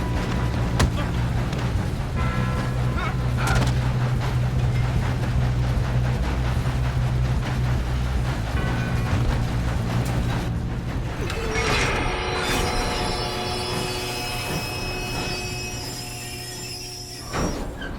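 Moving train in Red Dead Redemption 2, a steady low rumble and rolling clatter running throughout, joined in the second half by higher metallic ringing and game effects.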